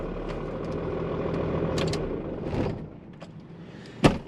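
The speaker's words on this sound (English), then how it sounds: "that is a very big diesel truck that makes very big diesel truck noises" A 1995 Dodge Ram 2500 4x4 diesel pickup idles with a steady low rumble, followed by a few clicks and a sharp door-like thunk near the end.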